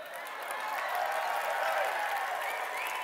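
An event audience claps, a continuous blended wash of applause with a murmur of voices underneath, rising slightly midway and staying fairly even, heard from a little distance.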